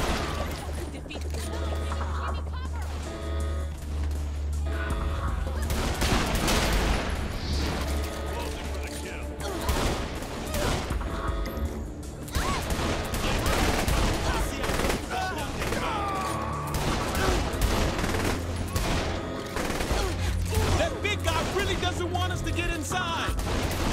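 Gunfire in Saints Row: The Third Remastered, a busy mix of rapid shots, bursts and mechanical clatter running steadily over a low droning bed, with voices talking throughout.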